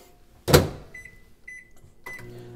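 A microwave oven heats milk for a tangzhong bread starter: a sharp door thud opens the clip, then the machine's electronic beeps sound in short pairs, followed by another clunk and a low running hum.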